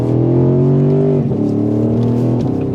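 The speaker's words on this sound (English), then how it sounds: "There's a pop from the exhaust and a vibration through the chassis." A Lexus IS500 V8 pulls through the gears, a loud steady engine drone broken by two quick upshifts with short dips in pitch and a brief exhaust crackle, close and without talk.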